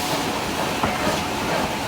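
A passenger train rolls along rails toward a request-stop halt station, a steady close rumble with faint clicking of wheels over the short stretch, no voices.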